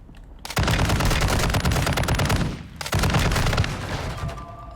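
Heavy machine gun fire rips through two long, loud bursts in a video game, rapid evenly spaced shots separated by a brief gap.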